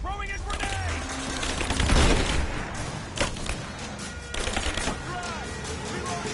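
Gunfire in the video game Rise of the Tomb Raider, a dense run of sharp overlapping shots and booming thuds with a heavier blast near the two-second mark, mixed under ongoing shouted voices.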